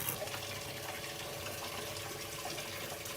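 Water rushing steadily through a UV drinking water filter system during a flush on a log homestead, a continuous faint gushing flow with no talk.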